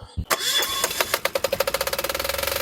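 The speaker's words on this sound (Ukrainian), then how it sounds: "І заводимо наш генератор." A home backup generator engine is started, cranks and catches, then settles into a loud, rapid, even idle chug close by.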